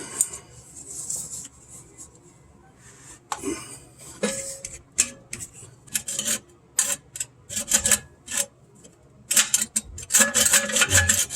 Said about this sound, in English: Now, this here bolt comes off.